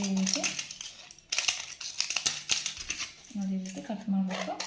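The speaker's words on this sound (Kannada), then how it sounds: "ಅಲ್ಲಿಗಿರೋಂಥ ಗುಳಿಗೆ ಸೀಟು ತೊಗೊಂಬಿಟ್ಟು ಅದನ್ನು ನೀಟಾಗಿ ಕಟ್ ಮಾಡಬೇಕು ಕತ್ರೆಯಿಂದ" Scissors cut through a used plastic-and-foil tablet blister sheet in a string of crisp, crackling snips and crinkles, irregular and close, with short pauses between cuts.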